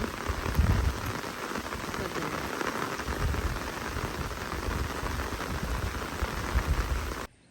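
Steady rain pattering densely across an open paddy field, a constant hiss of drops with no voices.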